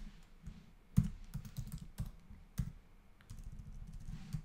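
Computer keyboard typing, irregular bursts of soft clicking keystrokes with small pauses between, close and quiet, no talking.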